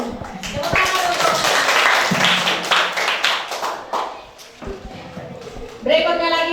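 Students in a classroom clap together at the close of a group presentation, a dense burst of hand claps that thins out midway and then picks up again, with voices chattering underneath.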